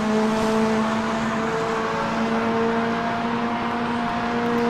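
Inside a DTM racing video game at Hockenheim, a race car engine drones steadily on a formation lap, a constant loud tonal hum with no voice over it.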